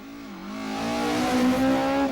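Rally car with a 1600 Cosworth engine on a tarmac stage, a single loud rising rev climbing through the gears as it approaches, close and alone.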